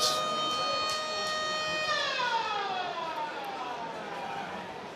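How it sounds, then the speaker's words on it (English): A distant wailing siren rises and falls, its tone sweeping downward midway, heard faintly behind a steady background hum at a rugby league match. "There goes the siren in the background"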